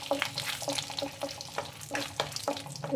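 Cardamom, pepper and cloves fry in a spoonful of butter for a creamy malai chicken, giving a steady close sizzle with frequent crackling pops and spits throughout.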